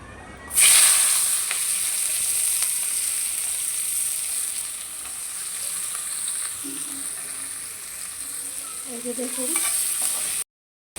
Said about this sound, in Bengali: এই যে দেখুন আমার পেঁয়াজ আর কাঁচামরিচটা ভাজা হয়ে গেছে